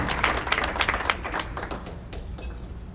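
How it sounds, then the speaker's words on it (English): A round of applause at a community breakfast for an executive director and his team, dense crowd clapping that is fairly loud at first and then thins and fades toward the end. "And a round of applause, Executive Director Jim Pilmer and his team."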